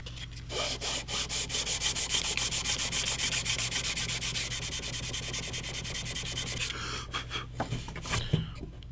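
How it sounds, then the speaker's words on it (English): A sanding block rubs steadily back and forth over fret markers set into a guitar neck, producing a close, continuous scratchy rasp for several seconds before a few final strokes. "I'm going to hit it with that sanding block"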